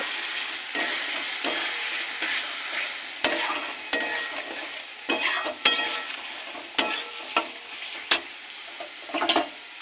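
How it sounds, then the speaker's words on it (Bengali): Spices (cumin, turmeric, chili powder and salt) being stirred and sautéed in a kadai for cabbage kofta curry, with a steady low sizzle broken by irregular, close scraping strokes of the spoon against the pan. "এবার ভালো করে কষিয়ে নেব"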